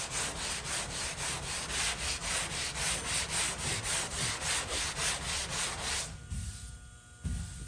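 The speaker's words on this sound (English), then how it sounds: "You never sand in the same place or front to back." A car body panel coated with guide coat being hand-sanded in quick, even back-and-forth strokes, a rhythmic close rasping that stops near the end, followed by a few faint handling noises.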